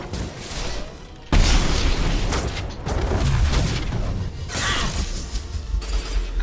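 A biotic shockwave power fires in the video game Mass Effect 2, a sudden booming, crackling blast that swells and rolls on for several seconds amid dense combat noise and layered game effects.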